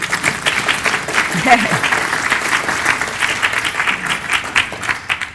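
An audience claps steadily in a dense, continuous burst of applause, with a voice talking over it throughout.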